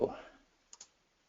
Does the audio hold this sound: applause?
no